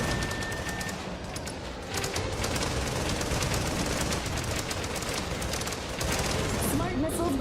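Mecha guns fire nonstop in Project Nimbus, a dense, loud barrage of rapid shots over a rumbling game soundtrack, with game voice chatter mixed in underneath.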